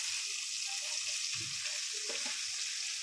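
Finely chopped, washed cabbage tipped into a hot pan for Cremonese ribs with savoy cabbage, a steady bright sizzle of frying with soft thuds and stirring scrapes, close and continuous with no talk.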